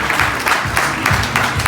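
Audience applause at an advertising awards ceremony honoring a community champion, a steady wash of clapping with rhythmic swells and some speech-like texture over the short span.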